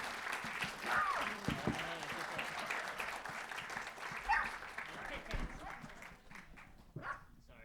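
Audience applause at a startup demo day event, broadband clapping filling the room with a dog barking and yipping intermittently, voices mixed in.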